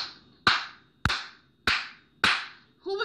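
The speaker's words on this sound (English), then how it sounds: "They clapped." Four sharp hand claps in church praise ring out at an even, unhurried pace, each crack close and loud with a short echoing tail, and no voices are heard.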